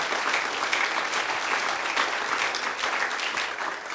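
Church congregation applauding, a dense, even wash of clapping that holds steady for a few seconds without pause.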